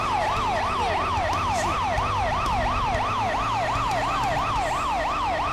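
A London Fire Brigade fire engine siren in a GTA 5 game mod wails in a fast, steady up-and-down sweep that repeats without pause, loud and close, with faint engine rumble beneath and no talk.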